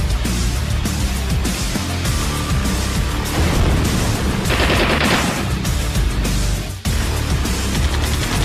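Gunfire from a Russian Spetsnaz film plays as dense, continuous bursts and rapid shots, loud and close, with a sharper burst in the middle and a brief drop near the end.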